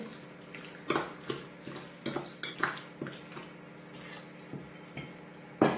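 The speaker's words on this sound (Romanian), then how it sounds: "Amestecăm puțin." A spoon stirs cherries mixed with a spoonful of starch in a bowl, giving a steady series of close, bright clinks and scrapes against the sides, with one louder clank near the end and no talk.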